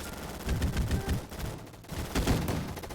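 Rapid automatic gunfire and launcher shots in the Roblox shooter Gunfight Arena, loud close bursts broken by a short gap before a second volley, with no talking.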